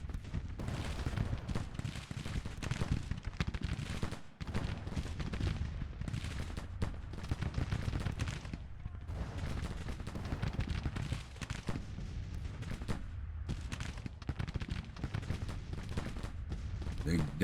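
Civil War musket volleys and artillery fire from the Grand Tactician strategy game rattle on continuously, dense overlapping shots and booms at mid-distance, with a voice faintly heard underneath.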